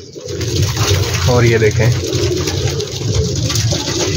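A big flock of pigeons of one colour and breed cooing on a large rooftop loft, a steady low murmur of coos throughout, with someone talking loudly over it.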